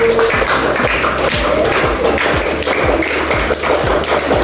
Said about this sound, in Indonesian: beri aplaus yang bagus.